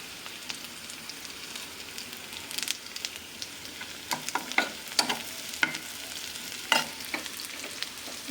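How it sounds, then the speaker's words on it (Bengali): Whole cumin seeds sizzle in a pan with frying onions and chilies, a steady crackling hiss broken by sharp pops and the scrape of stirring, close and alone without talk. "আমার পেঁয়াজ মরিচগুলো অল্প একটু ভাজা হয়েছে, এখন আমি একটু আস্ত জিরা দিব।"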